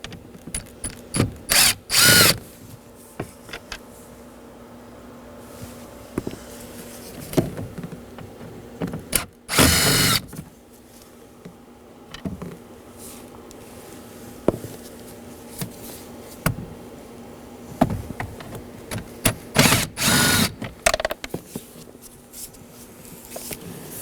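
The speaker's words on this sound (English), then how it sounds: "You'll see 3 Phillips head screws on the top. You want to remove those. I'll be using a Phillips head screwdriver." Phillips head screws come out of the glove box of a 2013-2019 Nissan Sentra, heard as repeated sharp bursts of whirring and ratcheting between quieter stretches of faint background noise.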